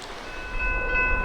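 A westbound freight manifest train running near the Tallapoosa River by the Georgia–Alabama line, a loud close rumble with a sustained horn tone rising over it.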